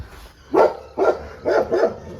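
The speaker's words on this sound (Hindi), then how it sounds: "तुम वहाँ क्या भौंक रहे हो?" A dog barks four times in quick succession, loud and close, with short pauses between the barks.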